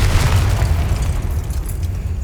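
A Confringo spell detonates in Hogwarts Legacy, giving a heavy, booming blast with a deep low rumble that holds steady and loud across the whole moment, with no voices over it.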